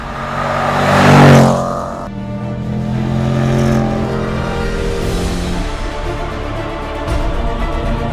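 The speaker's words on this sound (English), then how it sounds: "from the bottom of the rev range all the way up to the red line, the way this thing builds speed is nothing short of devastating" A Range Rover Sport SVR engine revs hard and accelerates on a racetrack, a loud rising roar that peaks early, then settles into a sustained powerful drone with gear-change shifts.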